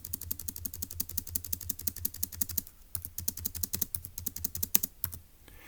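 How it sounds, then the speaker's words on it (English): Someone types a number on a computer keyboard in quick, even runs of close, crisp key clicks, with a short pause partway through. "And let's type up"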